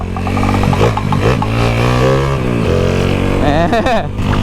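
A tuned motorcycle engine with a slipping clutch revs hard and close during a full-power test ride, its pitch repeatedly climbing and dropping in rapid surges with clattery mechanical noise throughout.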